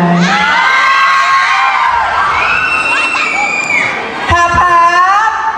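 A lively audience at a Filipino comedy show shouts, whoops and cheers loudly throughout, with high children's voices and yells piling up in a sustained, close roar.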